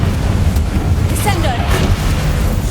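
A Confringo fire spell blasts in a Harry Potter video game, a loud, dense, rumbling burst of explosive noise sustained for a few seconds, with a voice calling out over it.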